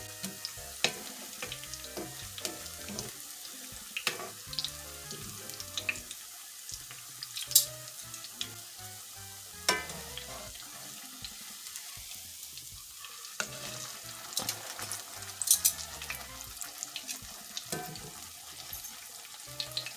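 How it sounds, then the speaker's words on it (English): Jackfruit fish-style fritters, gluten-free bacalaitos, fry in hot oil with a steady crackling sizzle. Scattered sharper pops and spatters run through the whole stretch, with no voices. "I'm gonna let this fry up for another 5 to 6 minutes"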